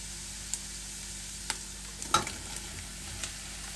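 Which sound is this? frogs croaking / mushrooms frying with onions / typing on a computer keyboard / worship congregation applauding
mushrooms frying with onions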